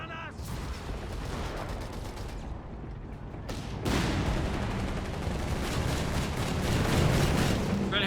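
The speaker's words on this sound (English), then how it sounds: "Infantry firing on us." Dense infantry small-arms fire crackles through a World War II battle in the strategy game Company of Heroes 3. Bursts overlap continuously, swelling louder and denser about halfway through.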